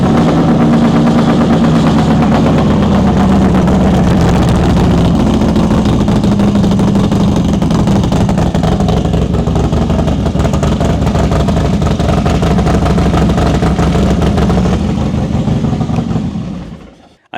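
A motorcycle fitted with a Bassani 2-into-1 exhaust pipe runs on a cold start, giving a loud, close, continuous rumbling burble. The sound holds steady for most of the stretch, then fades away at the end.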